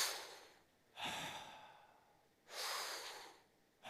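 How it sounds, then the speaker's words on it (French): Deep, rhythmic Wim Hof–style breathing during a guided meditation session: two long, forceful breaths, each a loud airy rush lasting almost a second, separated by quiet pauses, with no talking. "Je vous montre quelques cycles respiratoires et après on y va tous ensemble."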